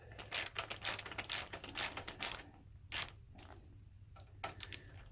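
Plastic screws being hand-tightened into PC case fans during an RGB fan install, giving a series of short, close ratcheting clicks and creaks in irregular bursts with brief pauses between them.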